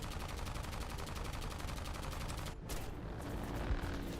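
Rapid aircraft machine guns and cannons firing in the War Thunder flight game, a dense, steady stream of shots for several seconds that stops abruptly, leaving engine drone and a faint low tone.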